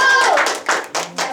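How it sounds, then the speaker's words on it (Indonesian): Students in a classroom clap in a few short, loud bursts close by, the claps broken by brief gaps, with a voice trailing off just as the clapping starts. "Tepuk tangan"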